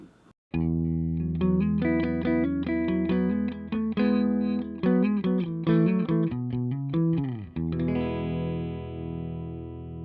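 Electric guitar run through a JHS Emperor pedal on its phased setting, strumming and picking a close, bright sequence of chords with sweeping modulation, then letting a final chord ring out and fade.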